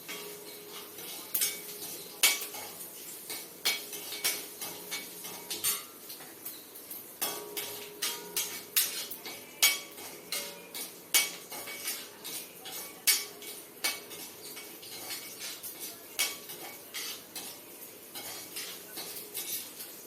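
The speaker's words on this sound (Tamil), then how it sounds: "எண்ணெயில் இதை நல்லா ஃப்ரை பண்ணி வறுக்கணும்." Chana dal frying in oil in a pan for a cabbage and coconut curry, heard as dense, continuous crackling and sizzling with irregular metallic clinks of a utensil stirring against the pan, close and steady throughout.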